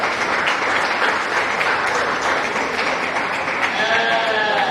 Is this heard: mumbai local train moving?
no